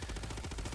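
Rapid automatic gunfire in the heist video game Payday 2, a dense, continuous burst of shots heard alone and fairly loud over a short stretch.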